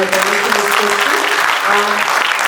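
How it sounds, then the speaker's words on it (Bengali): A crowd at a stage event bursts into loud, dense applause for the photographers. The clapping is close and sustained, with a voice or tones carrying faintly over it. "আর একবার জোরে হাততালি প্রত্যেকের জন্য"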